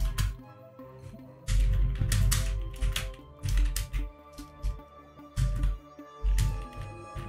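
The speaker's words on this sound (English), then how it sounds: "My keyboard is very bad." A computer keyboard typed on in short bursts, clusters of quick clacking keystrokes separated by pauses, close and fairly loud.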